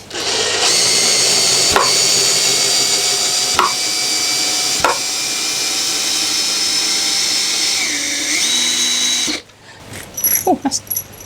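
A power drill whines loud and steady for about nine seconds as it backs a screw out of wood, with a few brief clicks along the way. It then stops, leaving quieter handling noises.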